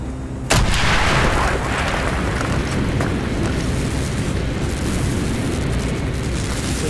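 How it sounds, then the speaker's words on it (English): A loud explosion blowing a hole in a wall in Call of Duty Black Ops, a sudden heavy blast followed by a sustained roaring rumble and debris noise that carries on for several seconds. "Mason, blow a hole in that fucking wall"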